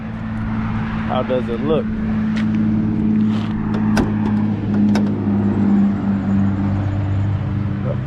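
A rebuilt engine in a repaired salvage-auction car idles steadily with a loud, constant hum and drone close by, as someone talks over it.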